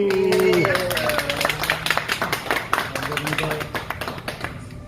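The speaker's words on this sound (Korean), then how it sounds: "박수" A small group claps steadily for several seconds, the applause beginning as a voice speaks and continuing on its own, moderately close.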